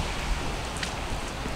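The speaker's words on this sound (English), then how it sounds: "as you guys see, it's raining" Steady rain falls outdoors at an airsoft field, a soft, even hiss of drops with no distinct bursts, fairly faint and close, with no voices.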